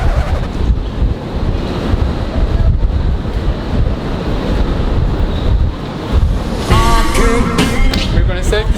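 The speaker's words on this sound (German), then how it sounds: "It's windy outside now." Stormy wind buffets the microphone in a steady roaring rush, with waves and a ship's deck noise beneath, while people shout and talk in the foreground.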